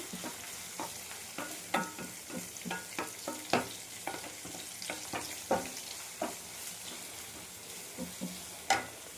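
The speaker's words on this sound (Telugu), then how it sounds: "కొంచెం సాల్ట్ వేసుకొని ఫ్రై చేస్తే ఉల్లిపాయలు కొంచెం తొందరగా మగ్గుతాయి" Onions frying with salt in a pan for a Telugu okra curry, a steady close sizzle broken by repeated sharp scrapes and clinks of stirring at an irregular rhythm, with no voices.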